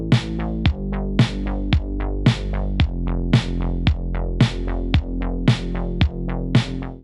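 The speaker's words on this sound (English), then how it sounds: "We have a simple kick and snare pattern along with the bass playing root notes in eighths." A simple programmed drum pattern of kick and snare at 112 BPM with bass playing root notes in steady eighths, punchy and loud with evenly spaced hits and no voice.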